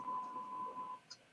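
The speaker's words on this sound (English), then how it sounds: "What's that beeping?" Electronic beeping in the background of a call: a thin steady tone held for about a second, then a short faint blip, quiet and alone.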